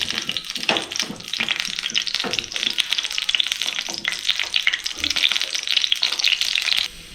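Amla (Indian gooseberries) sauté in hot oil with a loud, dense, continuous crackle and spatter close up, an occasional tap of a utensil in the pan, ending abruptly.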